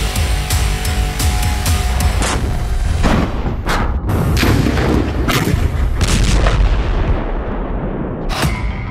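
Bombardment on Gaza, with heavy artillery booms and blasts striking in quick succession over a loud continuous rumble, several sharp impacts close together.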